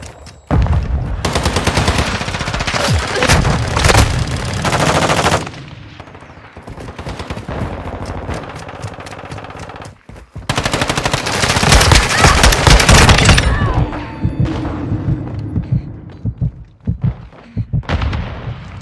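TAQ 56 (FN SCAR-L) assault rifle firing in Modern Warfare II, loud close automatic bursts lasting several seconds each, separated by short gaps with scattered thuds and battlefield noise.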